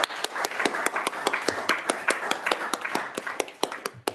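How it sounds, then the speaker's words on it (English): Members of a water committee applaud a departing colleague with scattered, sharp individual handclaps spread steadily across a few seconds, a modest room-sized group clapping alone without talk. "I'm sure you all give Bruce a round of applause."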